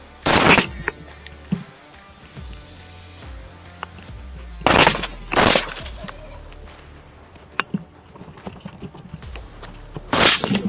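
Rifle shots fired at wild pigs in a landfill, several loud sharp cracks in small clusters spaced a few seconds apart, near and dominant over a quiet outdoor background.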